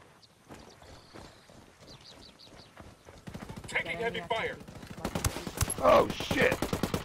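Heavy gunfire in a war video game builds from scattered distant shots into dense, rapid automatic fire, growing louder and closer while someone talks over it.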